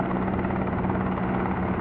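Steady helicopter rotor drone from a helicopter simulator video game, a dense continuous whir with a low hum holding evenly throughout, loud and close with no talk over it.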